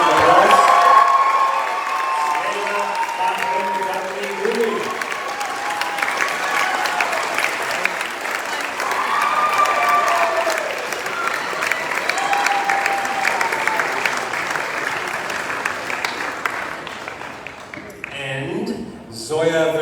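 Sustained audience applause with cheering and whoops fills a graduation ceremony hall as a student crosses the stage, loud and steady for most of the stretch before tapering off near the end.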